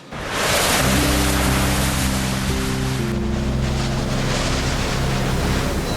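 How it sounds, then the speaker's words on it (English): Ocean waves roll in along the coast the day before Hurricane Gustav, a loud continuous rush with wind buffeting, while a steady low mechanical drone hums underneath throughout. "we drove up the coast and watched the waves come in"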